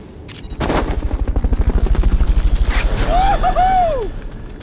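A helicopter in the video game Metal Gear Solid: Peace Walker starts up as a loud, rapid, regular rotor thudding, with brief whistling electronic game effects sweeping over it near the end.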